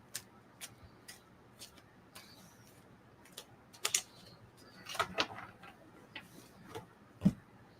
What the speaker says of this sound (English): I'm shuffling so you know what I'm doing